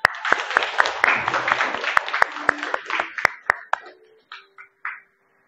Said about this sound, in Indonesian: Tepuk tangan untuk kita.